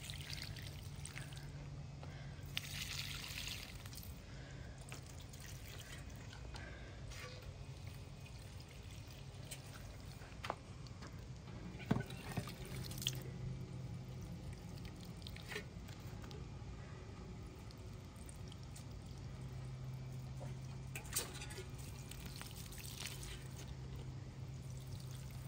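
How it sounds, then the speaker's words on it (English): Water pours steadily from a hose or watering can onto blooming flowers outdoors, a soft continuous splashing trickle with a few faint knocks and no talking. "I'm just out here to water them."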